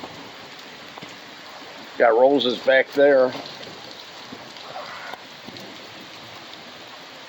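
Steady rain falls on a day in northern Illinois, a constant close hiss throughout, with a person briefly talking over it.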